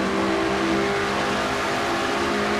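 Race car engines roar steadily in a stock-car racing video game as one car pulls onto another's back bumper, a loud sustained drone with a constant pitch and no talk.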